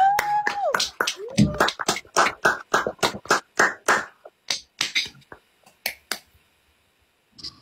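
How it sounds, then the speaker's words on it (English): Audience applause for singers at a casual performance: a run of sharp, separate claps in irregular rhythm, loud and close, thinning out toward the end, with a few spoken words early on. "Why don't you clap for them?"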